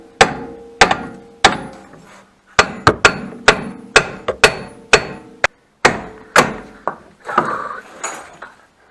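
Repeated sharp metallic hammer blows on a Volkswagen Passat B5's suspension during disassembly, about a dozen strikes in uneven bursts with short pauses, ringing slightly on metal, close and loud.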